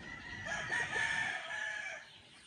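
White Kelso rooster crows once on a farm, a loud, close, drawn-out cock-a-doodle-doo lasting about two seconds with a strained, wavering tone.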